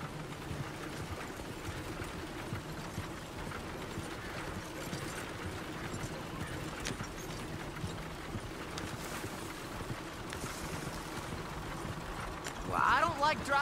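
Horse hooves clip-clop steadily along a road in the video game Red Dead Redemption 2, a soft continuous rhythm under wind noise, with a voice breaking in briefly near the end.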